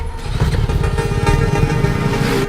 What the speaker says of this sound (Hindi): अरे इंजन में से बहुत आवाज आ रही है, अच्छे से चेक करना।